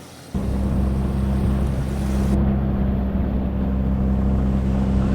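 A boat engine with an improved motor runs loud and steady throughout, its constant drone strong and close, with a hissing rush of wind or water building partway through.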